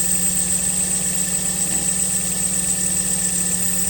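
A second-generation Toyota Vios engine runs steadily with a noisy drive belt, a constant whine and rattling hum, loud and close, with no pauses or talk.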